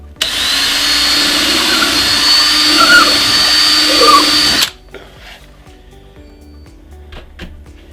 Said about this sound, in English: So because I've got 3 inches of foam to drill through